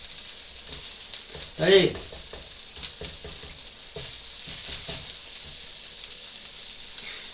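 Raclette cheese sizzles on a plancha griddle, a steady soft frying hiss running throughout with a brief louder burst near the start, while a voice briefly speaks over it.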